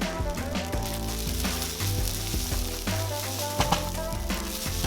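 Kimchi fried rice sizzles steadily in a hot frying pan, a continuous close frying hiss with occasional stirring clatter and scrapes throughout, no voices.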